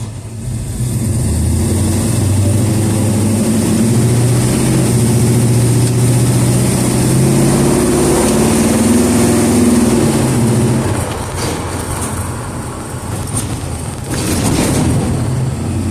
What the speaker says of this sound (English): Big old loud cargo van.